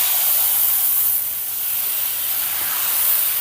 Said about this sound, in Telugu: ఇప్పుడు దోశ వేసుకుందాం.